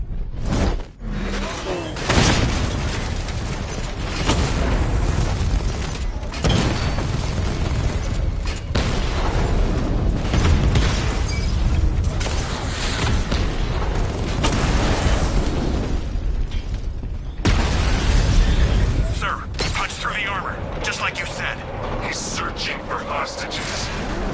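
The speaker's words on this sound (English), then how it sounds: "Your 60mm cannon will penetrate these heavily armored units, but it'll take a few direct hits to destroy them." Batman: Arkham Knight gameplay: the Batmobile's 60mm cannon fires at heavily armored units, with loud repeated booms and explosions, sweeping whooshes and continuous rumbling, and a voice speaking over the combat.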